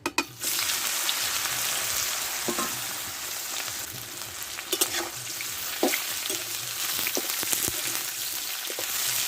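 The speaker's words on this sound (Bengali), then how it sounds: "দেখো বন্ধুরা ভেন্ডিটা এইভাবেই ভাজতে হবে" Okra (bhindi) fries in very hot white oil in a wok, giving a steady, loud sizzle throughout with a few brief clinks and scrapes from stirring.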